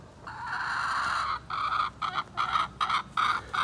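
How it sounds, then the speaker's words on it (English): Free-range Polish hens in a backyard flock cluck in a run of repeated bursts, close and fairly loud, with short pauses between calls. "We are just enjoying our chickens."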